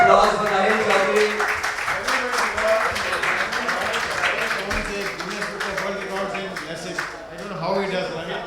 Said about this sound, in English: big round of applause for Rahim Chaudhary